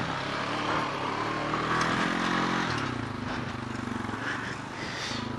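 A four-wheeler ATV on massive tires revs and roars during wheelies, its engine note rising and falling as it is ridden; the sound is moderately loud and fluctuating, mixed with wind.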